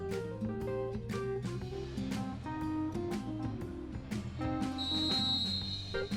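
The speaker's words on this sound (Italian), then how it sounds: "fischio del direttore di gara" Short referee whistle blasts sound at an Italian Serie A2 futsal match between Ciampino Anni Nuovi and Tombesi Ortona, repeated sharp chirps and a longer final blow over crowd and arena noise.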